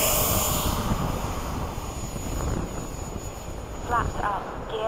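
Piaggio Avanti aircraft engines during takeoff on a sunset flight at Bayside: a loud, steady broadband roar that holds throughout, with muffled voices faintly under it.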